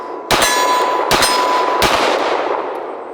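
Three pistol rounds fired at a steel target about 20 yards downrange, each a sharp loud crack followed by a ringing metallic clang that lingers and fades, spaced under a second apart.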